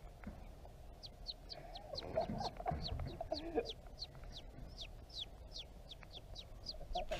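A voice imitates a bird with a run of quick, high, chicken-like clucks, fairly faint against a quiet outdoor background.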